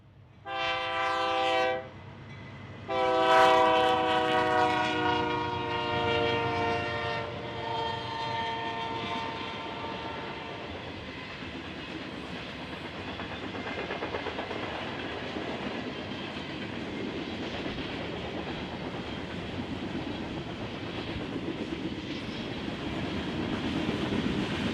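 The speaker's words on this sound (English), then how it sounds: "the North Main being occupied by this Kansas City-bound grain train" A BNSF grain train bound for Kansas City sounds two long horn blasts on the Marceline mainline, then its freight cars rumble and clatter steadily past, close and loud.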